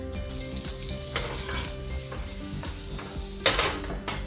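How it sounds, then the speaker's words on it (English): Butter melting in a hot pan for a French-style mushroom dish, a steady close sizzle with soft crackles and a few utensil scrapes and light knocks, no speech. "We're gonna melt some butter in here."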